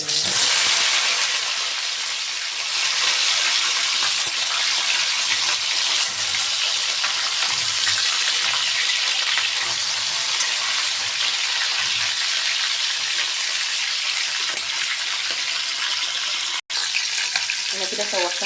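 Chicken fries in very hot oil while being stirred, producing a loud, continuous crackling sizzle and hiss that lasts throughout, broken only by a momentary dropout near the end.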